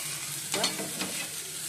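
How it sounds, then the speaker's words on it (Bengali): Fried potatoes and spices sizzle steadily in a pan while being stirred, with a couple of scraping stir sounds over the constant hiss. "মশলার মধ্যে আলু দিয়ে দিচ্ছি, আলুটা ভেজে নিয়েছি, মশলাটা ভালো করে কষিয়ে নিচ্ছি।"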